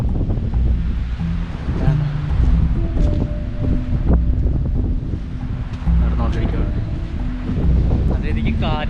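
Strong wind at a hilltop viewpoint in Nelliyampathy roars and buffets the microphone in loud, uneven gusts, with leaves rustling and people talking in the background.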